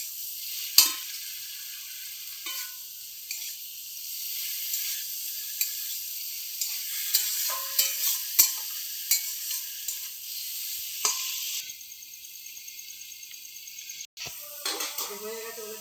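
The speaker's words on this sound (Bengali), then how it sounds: "এইভাবে নাড়তে নাড়তেই হয়ে যাবে।" Boiled elephant foot yam stalks fry in a pan, a soft steady sizzle punctuated by scattered scrapes and taps of a stirring utensil, with someone talking over the cooking.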